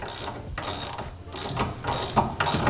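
Ratchet wrench clicking in repeated bursts while tightening the 19 mm bolt on a tie rod puller during a tie rod upgrade, several loud close strokes with brief pauses between them.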